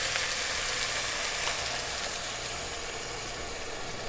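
Coconut milk poured into a pan of sizzling ginger and garlic, a steady broad frying hiss throughout, close and loud with no voices.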